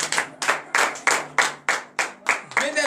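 Rhythmic group clapping at a morning church prayer service in Benin: about eight sharp, evenly spaced claps, loud and close, with a voice rising at the very end.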